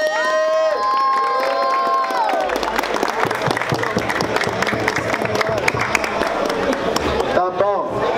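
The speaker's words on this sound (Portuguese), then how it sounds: "Barulho só pra quem achou que foi Guga, família!" A crowd at a street rap battle in Rocinha cheers and shouts loudly with claps and whistles, sustained and close, after an MC calls out over the noise.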